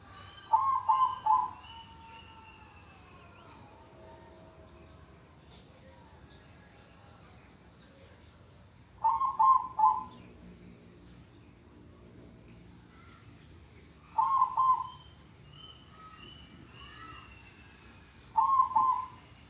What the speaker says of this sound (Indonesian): kita dengarkan suara anggungan perkutut